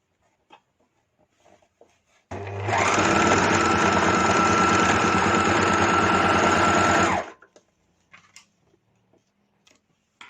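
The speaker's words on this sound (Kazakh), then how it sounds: "мына шетін айналдыра оверлокпен жүргізіп шығамын" An overlock sewing machine runs a single continuous burst of about five seconds while stitching around the edge of tie-dye fabric, loud and close, with quiet handling before and after.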